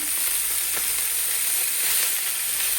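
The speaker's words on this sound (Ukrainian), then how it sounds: "Дуже швидко підсмажуються наші реберця." Pork ribs frying in a pan make a loud, continuous close-up sizzle, with dense hissing and crackling oil that holds steady throughout and has no voices over it.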